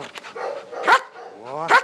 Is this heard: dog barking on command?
yes